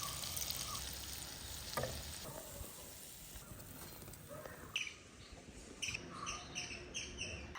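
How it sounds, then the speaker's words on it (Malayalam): Honey candy batter balls made from dosa batter frying in hot oil give off a faint, steady sizzle, with a few stirring clinks and knocks breaking through near the end. "നമ്മുടെ തേൻമുട്ടായി ഒന്ന് ഫ്രൈ ചെയ്തെടുക്കാൻ ആവശ്യമുള്ള ഓയിൽ ഒഴിച്ചു കൊടുക്കാം"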